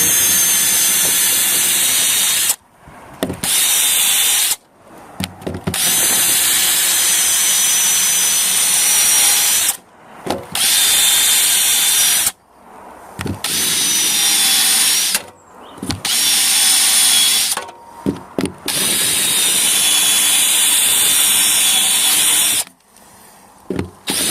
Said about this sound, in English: I'm going to use this stepped bit to drill these out because they're so big.